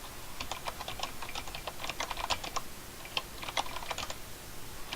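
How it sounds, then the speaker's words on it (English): Typing on a computer keyboard during a classroom accounting problem session: a quick run of light, crisp key clicks in short irregular bursts, close and fairly quiet over a faint room hiss, with no talking. "maybe we'll type that in here"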